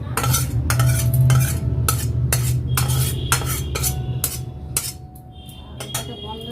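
A metal spoon stirs egg curry in a cooking pot, making repeated sharp clinks and scrapes against the pot over a low, steady background sizzle, close and fairly loud.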